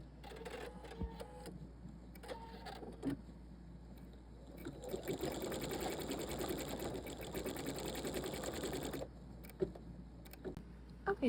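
A Pfaff Creative 3.0 embroidery machine stitches blue thread eyes on a Halloween quilt piece, its steady rapid needle whir running continuously for several seconds between quieter clicks and pauses.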